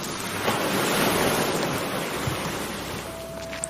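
Sea waves wash against the shore in a steady broadband rush, close and loud, with a soft wind-like hiss and no voices.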